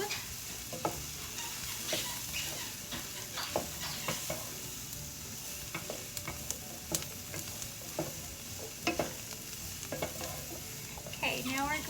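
A spoon works through a homemade chicken pot pie filling in a pot, with repeated soft scraping strokes and light wet clicks against the pan over a quiet low sizzle, close and fairly faint, without talk.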